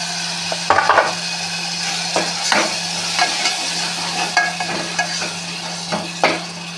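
A ground spice paste fries in oil in a pan under a constant low sizzle, with repeated scraping strokes of a spoon stirring it.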